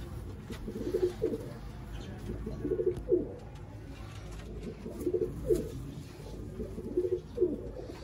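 Sialkoti pearl-spotted pigeons coo in repeated low, rolling phrases, several soft bursts spaced about every second or two against a steady background hum, with no talking.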